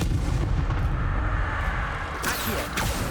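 Hogwarts Legacy's Confringo spell fires off booming, crackling blasts in quick succession that burst loud over a dense wash of game ambience and music.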